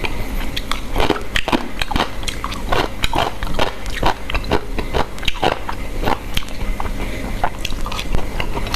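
Crunchy raw salted small radish being chewed close up gives loud, rapid, irregular crunching bites that run steadily throughout.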